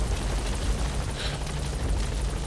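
Helicopter in the video game Metal Gear Solid V, a steady loud rotor thrum with low rumbling engine noise and a brief brighter whine midway, continuous and close, no voices.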